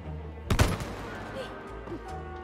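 Weapons fire at enemies in It Takes Two, a sharp loud burst of shots followed by a lower rumbling game background.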